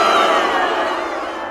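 A crowd boos at a baby talent show, a dense, steady roar of many voices filling the whole moment at close range without letting up.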